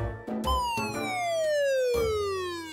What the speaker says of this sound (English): Could you flash the police sirens for a moment?